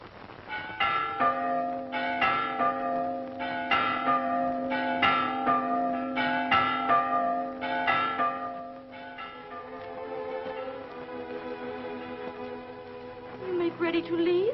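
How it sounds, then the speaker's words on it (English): Church bells chime over a quiet valley in a 1947 western, ringing in a series of bright, resonant strikes for about nine seconds, then fading into sustained tones with softer music-like sound beneath. "to hear those chimes in a quiet valley"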